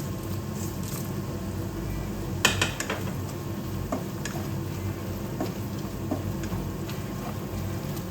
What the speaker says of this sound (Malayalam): ഇതൊന്ന് ചെറുതായിട്ടൊന്ന് വഴറ്റിയെടുക്കാം നമുക്ക്